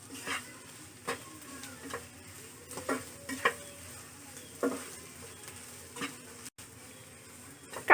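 Beef brain frying in a pan with chopped green chilies, stirred with a spatula: a steady low sizzle under scattered scraping strokes and light knocks, close and fairly quiet, with no talking.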